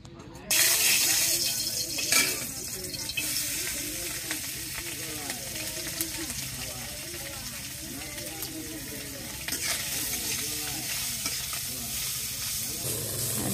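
Fish rubbed with turmeric, chili and salt sizzles and spits in hot oil, a steady broad frying hiss that carries on for the length of the clip, with faint voices in the background.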